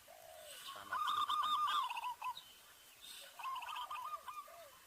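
Zebra dove cooing played back from a phone as a lure for trapping wild birds, several soft rhythmic coo phrases in two bursts with brief pauses, moderately close and alone without talk.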